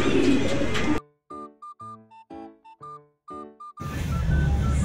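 Pigeons about to be released coo in a clear, close run of soft rounded calls, a burst of about eight separate coos in a quiet gap between stretches of outdoor noise.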